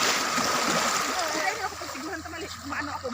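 Someone swims through water in the dark with loud splashing and sloshing, which eases into gurgling and gentle churning. A voice is heard nearby.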